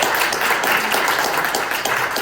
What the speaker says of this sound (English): a big round of applause for Kember for asking that